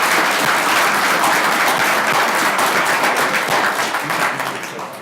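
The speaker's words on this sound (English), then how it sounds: "So I'm going to give them a round of applause right off the bat." A room full of people applauding candidates at a local candidate forum, steady loud clapping that holds evenly, then tapers off near the end.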